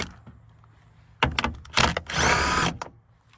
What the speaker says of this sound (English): So now we have 9 10mm bolts around the edge of here that need to come off.